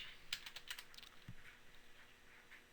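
Soft, quick keystrokes on a computer keyboard patter irregularly at close range, faint and alone with no talk.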